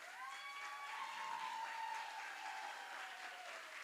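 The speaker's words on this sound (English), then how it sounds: "Could you please just stand up and let us give you a round of applause?" A gala audience applauds their board president, a steady wash of many hands clapping heard from some distance, moderately quiet and even throughout.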